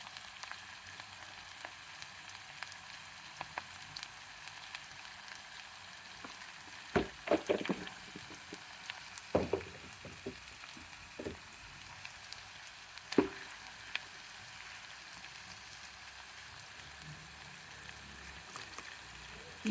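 Turmeric, coriander powder and chili powder frying in oil, a faint steady sizzle with scattered light crackles and a few louder pops, close by, with no one talking.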